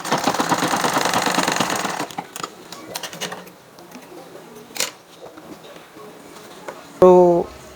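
A sewing machine stitches fabric for a strap-style nightwear top, its dense, rapid mechanical rattle running steadily for about two seconds before stopping, followed by quieter handling clatter and a brief later sound.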